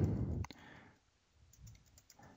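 A couple of soft computer mouse clicks on a desk, quiet and close, followed by faint room tone.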